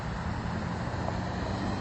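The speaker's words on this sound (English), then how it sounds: "There's an engine sound at the same time." A car engine hums steadily near an intersection, a muffled continuous rumble blended with broad road and traffic noise for a couple of seconds.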